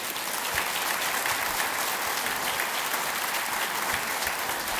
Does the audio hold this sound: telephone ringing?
no